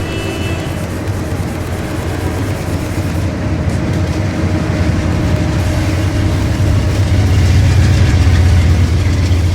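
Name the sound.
train departing, video game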